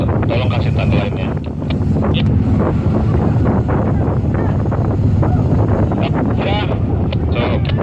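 Strong wind roars across the microphone at sea during a night transfer of food provisions by crane in bad weather, a loud, continuous buffeting rush with a brief word spoken beneath it.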